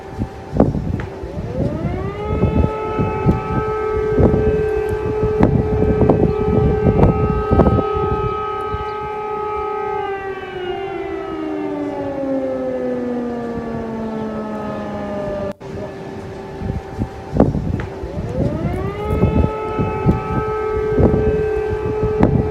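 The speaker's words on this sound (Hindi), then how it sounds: "ये वॉर सायरन कीव में बज चुका है" Civil defense air raid siren wailing across Kyiv during wartime, a loud sustained tone that slowly rises and falls, with a second cycle starting after a brief break, alone with no talk.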